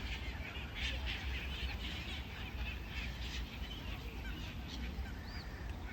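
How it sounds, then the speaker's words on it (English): Swans, ducks and other birds honk and call across a lake, scattered overlapping calls over a steady bed of outdoor wind noise, moderately faint. "I've got all of the swans migrating down to this corner here"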